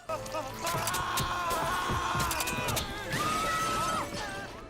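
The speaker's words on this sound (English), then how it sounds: "All over the train, glass is shattering." Glass shatters and crashes repeatedly all over a train in Resident Evil Zero, a busy, chaotic mix with bright tinkling fragments and ringing tones over a dense background.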